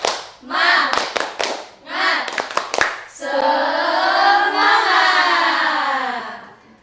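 A class performs the 'tepuk semangat' chant, with voices chanting in rhythm and bursts of sharp clapping between phrases, followed by a loud sustained group shout.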